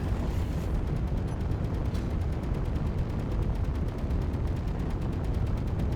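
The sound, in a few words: gunfire in Space Engineers video game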